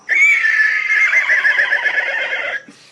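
A man imitates a horse's neigh, one long, loud, quavering whinny close by that trails off after a couple of seconds.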